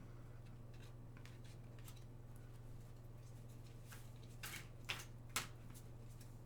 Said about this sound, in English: I just feel like I need to shuffle a bit more